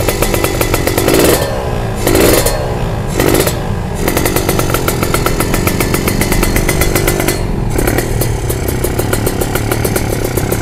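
A Suzuki Satria FU motorcycle fitted with a Kawasaki Ninja two-stroke engine idles with a raspy, buzzing tone and is blipped several times into short, loud revs, then settles back.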